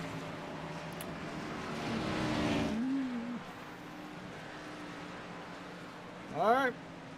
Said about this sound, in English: Cars are rolling here at Pocono Raceway